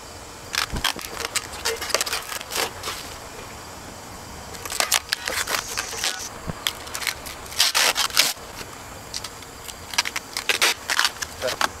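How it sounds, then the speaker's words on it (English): Protective film being peeled off raised garden bed panels, a series of dry scraping, rubbing bursts with short pauses between, close and moderately loud, with quiet handling noise in between. "So the first step is remove the protective film."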